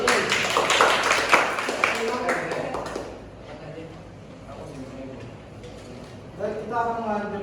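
Brief classroom clapping for a student teacher, loud and dense at first and fading out after a few seconds, followed by quieter room sounds and voices talking.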